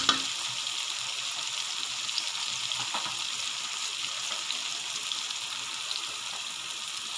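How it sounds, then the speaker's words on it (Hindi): Brain masala (magaz) frying in a pan, a faint, steady crackling sizzle like light rain, fairly quiet and unbroken, with a small knock at the very start. "फ्राई हो रहा है।"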